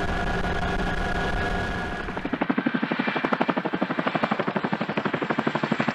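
A Boeing Chinook heavy-lift helicopter passes loudly and close by. A steady turbine whine quickly gives way to a rapid, rhythmic thumping of rotor blades that continues without pause, and no voices are heard.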